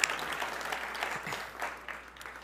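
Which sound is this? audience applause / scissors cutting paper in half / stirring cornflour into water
audience applause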